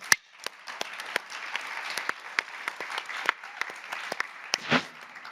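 Sparse, scattered claps from a small audience at a gathering honouring survivors of childhood sexual violence, a few sharp individual hits spread irregularly over a quiet background, fairly close and modest in volume.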